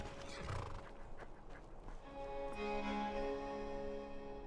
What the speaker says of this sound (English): Excuse me, horse, thank you.